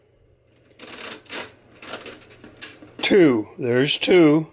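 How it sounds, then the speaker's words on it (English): A vintage Monroe manual mechanical calculator clicks as its crank is turned counterclockwise, giving a few sharp separate clicks up close, followed by a person speaking. "we're just going to go around once, and you can hear the click"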